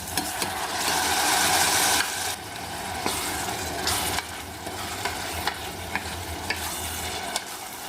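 Onions fried until red with chopped tomato added in a pan, a close, continuous sizzle with scraping stirs and a few sharp spatula taps, louder at the start then settling into a steady crackle, no talking.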